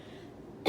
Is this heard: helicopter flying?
no